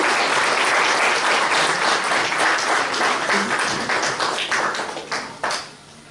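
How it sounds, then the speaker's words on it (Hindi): Strong applause fills a hall at a Brahma Kumaris Shiv Jayanti festival gathering as a DRM guest is welcomed, dense, steady clapping that fades out toward the end. "तो जोरदार तालियों से हम स्वागत करेंगे।"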